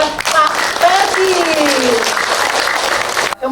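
Audience applause for a trainer at the close of a healthy-menu cooking workshop held by a Rotary district, dense steady clapping throughout with a few voices calling out over it.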